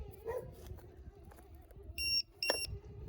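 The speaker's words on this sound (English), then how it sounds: "we're going to make sure to put our low voltage alarms on there" A LiPo battery low-voltage alarm, clipped onto the balance plugs during a lithium upgrade of a Razor scooter, sounds a sustained high electronic beep and then a shorter second burst. The beeps ring over a low background rumble with no talking.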